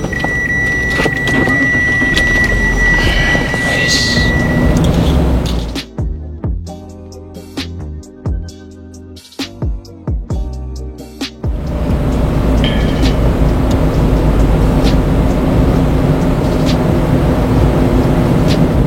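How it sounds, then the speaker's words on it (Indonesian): A car engine starts and idles steadily while a head unit is being fitted in a Mitsubishi Xpander or Nissan All New Livina, giving continuous close engine noise with a quieter gap partway through. "kita langsung aja tes nyalain mesin mobil"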